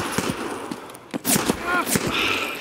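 Gunfire during a video game raid: several sharp shots crack in quick bursts, mixed with game sounds and a voice speaking.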